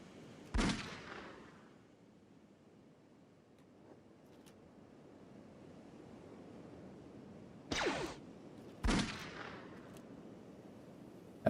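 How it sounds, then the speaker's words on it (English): Gunners in Kenshi firing their guns: three loud, sharp shots with ringing tails, one early and two close together later, separated by a quiet ambient lull. "these two are just practicing their gunnery skills"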